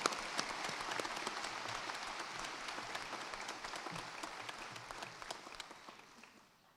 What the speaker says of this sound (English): Round of applause, I think, for Dr. Carol Slattery.